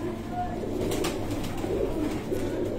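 Prized fancy pigeons coo softly in a steady, low murmur, set against a constant bed of background noise and faint distant voices.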